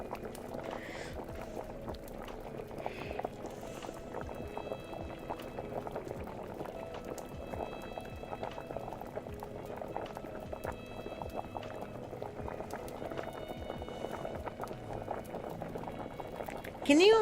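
Liquid boils in a pot in a video game kitchen, giving off a continuous, faint, busy bubbling that runs steadily throughout under soft talking.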